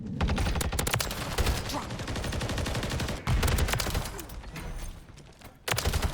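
Gunfire in the video game Modern Warfare 3: dense bursts of automatic shots rattle almost continuously, broken by brief pauses and a few sharper, louder volleys, with no voices.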